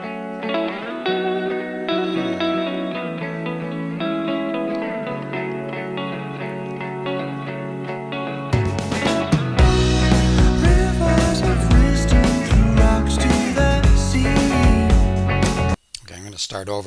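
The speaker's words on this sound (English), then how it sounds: "I love the guitar coming in, really nice clear tones" Clean, ringing electric guitar notes play a melodic line with reverb in a song, then a fuller band with drums and bass kicks in loudly.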